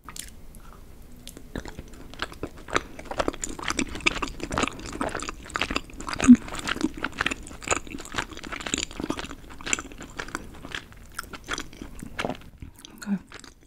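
Chewy Korean tteokbokki rice cakes in spicy sauce being bitten and chewed close to the mic, a steady run of wet, squishy mouth sounds and soft crunches for about thirteen seconds, with no talking.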